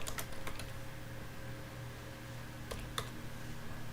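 Someone types on a computer keyboard: a few quick clusters of light, crisp key clicks over a faint steady hum, close and quiet, with no speech.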